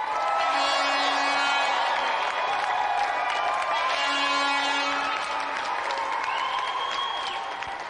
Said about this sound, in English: another round of applause for our two brilliant competitors, Matthew and Ian Sleet.